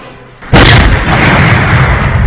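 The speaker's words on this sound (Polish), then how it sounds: "O, dzisiaj to był wybuch" A loud, close explosion that bursts suddenly and rolls on as a sustained, heavy roar for about two seconds.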